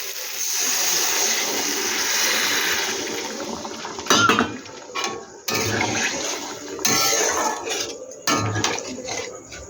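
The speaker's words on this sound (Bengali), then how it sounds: "এবার আমি অল্প করে জল দিয়ে দিচ্ছি" Water poured into a raw banana curry cooking in a pan makes a continuous rushing splash for a few seconds, followed by intermittent metallic clinks and scrapes of utensils against the pan, close by.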